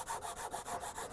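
A small saw cutting through soft wood for a model canal boat: fast, steady rasping back-and-forth strokes, close and continuous, with no talking.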